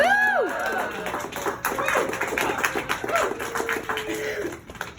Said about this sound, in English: Roy Lucas Coker, please a round of applause.